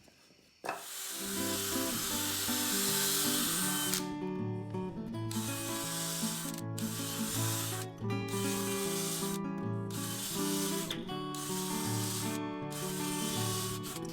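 A drill bores pilot holes for screws in wood while a farmhouse office desk is built, giving a loud continuous whine with shifting pitch and brief cutoffs between holes.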